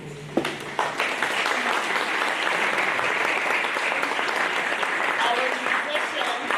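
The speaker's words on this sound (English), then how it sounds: "I would like for you to give a round of applause to our artists." An audience at a school spring arts exhibition and music concert applauds its artists, a full sustained round of clapping that starts sharply and carries on loud and dense throughout.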